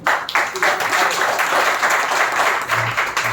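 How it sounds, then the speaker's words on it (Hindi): An audience at an International Women's Day celebration applauds loudly and steadily, a dense continuous wash of clapping from a large crowd filling the room. "तो पहले जोरदार आपके खुद के तालियों के लिए।"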